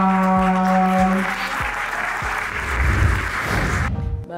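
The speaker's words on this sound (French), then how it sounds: "un tonnerre d'applaudissements pour" Applause from an audience at a singing competition semi-final, a dense wash of clapping under sustained music tones and low thumps, loud and continuous before cutting off near the end.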